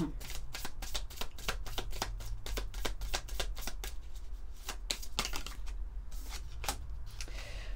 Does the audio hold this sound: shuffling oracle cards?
yes